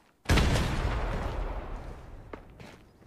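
A thrown grenade detonates in a tactical shooter game as a single loud, close boom that rolls off in a long decaying rumble, followed by a couple of faint clicks or steps.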